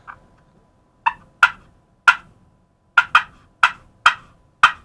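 A turkey game call mimics an excited hen, giving a rapid series of sharp, clucking cuts, about nine distinct yelps spaced irregularly and heard up close against silence.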